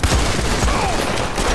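Gunfire in Red Dead Online: a rapid burst of loud, close shots in quick succession, dense and punchy, with no talk over it.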